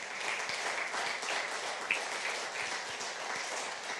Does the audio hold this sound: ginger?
no